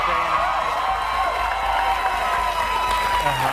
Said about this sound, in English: yeah, you're applauding now